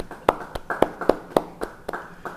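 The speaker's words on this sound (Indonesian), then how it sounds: "Yang setuju beri tepuk tangan bagi dia." Scattered, unsynchronised clapping from a small church congregation at a Bible study, about nine sharp claps spaced irregularly over a couple of seconds, moderately close with no talking.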